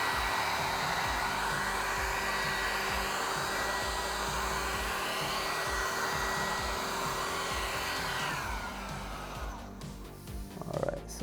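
A heat gun warms vinyl wrap film on the bed side of a Cybertruck, producing a steady, close, blowing hiss with a constant motor whine that eases slightly near the end.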